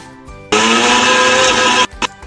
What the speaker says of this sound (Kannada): ಸ್ವಲ್ಪ ನೀರು ಹಾಕ್ಕೊಂಡು ಮಿಕ್ಸಿಯಲ್ಲಿ ರುಬ್ಕೋಬೇಕು.